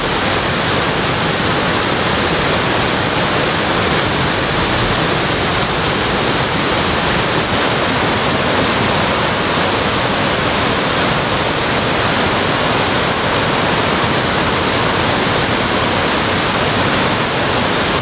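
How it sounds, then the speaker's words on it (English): Kanayama no Taki, a waterfall in Japan surrounded by autumn foliage, roars in a steady, dense broadband rush that stays loud and unbroken throughout, with no voices over it. "This is Kanayama no Taki waterfall."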